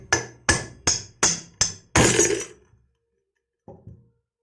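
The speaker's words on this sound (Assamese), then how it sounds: "এইটো বাল্ব সাধাৰণ বস্তু। তো আহক, এইটোতো এক কোব মই এইটো ভাঙি পেলাওঁ এতিয়া" Five sharp hammer knocks in quick succession, then a loud crunching burst as a light bulb breaks, followed by silence and two faint taps.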